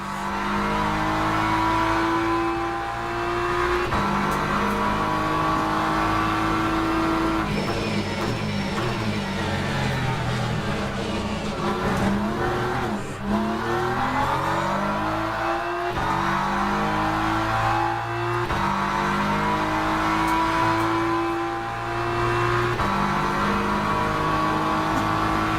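Race car driving at Bahrain in Le Mans Ultimate, a loud continuous engine drone that rises and falls through gear shifts and revs, with downshifts into corners, close and steady throughout.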